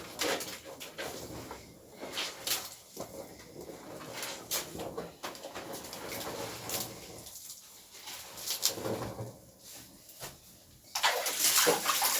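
Laundry being washed by hand in a bathroom: water splashing and sloshing, fabric wrung and slapped in bursts, with pigeons cooing faintly nearby and a louder rush of water at the end.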